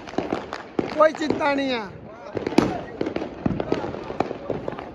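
Diwali firecrackers bursting outdoors at a family celebration, a run of sharp cracks and pops scattered through the clip, one louder bang near the middle, with people talking over the noise.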